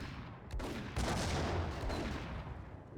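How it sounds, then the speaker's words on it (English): Grenade blast in the Max Payne video game, a muffled burst of explosive noise followed by rumbling debris and crackle, fairly quiet and short, no talk. "I can just huck a grenade in the thing."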